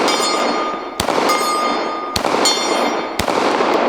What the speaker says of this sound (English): I got to shoot that plate over there.